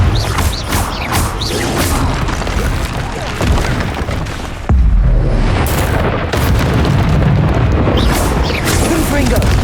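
Confringo explosive spell in Hogwarts Legacy combat: a loud continuous barrage of booms and crashes, with a sharp deep blast near the middle followed by more bursts and a clatter of battle sounds.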